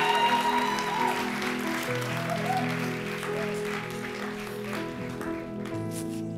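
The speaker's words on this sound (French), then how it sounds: "Est-ce qu'on peut applaudir Anaïs," An audience at a French youth church event, Momentum Jeunesse, applauds Anaïs, with steady sustained clapping mixed with sustained musical tones underneath, the clapping holding fairly even throughout.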